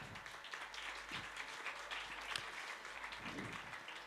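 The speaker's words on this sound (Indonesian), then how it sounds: "Kasih tepuk tangan dulu." An audience at a pesantren graduation ceremony gives a faint, distant round of scattered clapping for students, steady over a few seconds with no voices standing out.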